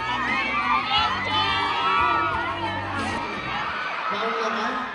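Excited crowd at a live stage performance where an actor serenades the audience, with loud cheering, shrieks and whoops rising and falling continuously, dense and close, lasting the whole moment.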